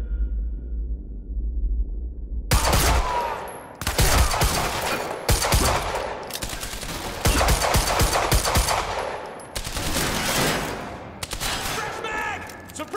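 Heavy bursts of automatic gunfire in the video game Quantum Break, loud and close, several long rattling volleys after a low rumbling opening, with brief pauses between bursts.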